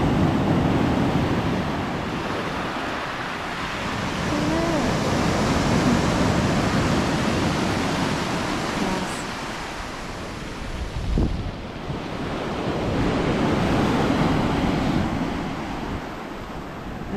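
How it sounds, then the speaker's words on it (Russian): Wide waves rolling onto the Black Sea shore at Novomikhailovsky, a continuous roar of surf that swells and recedes in slow surges, with wind buffeting the microphone throughout and no voices. "Люблю такие широкие волны."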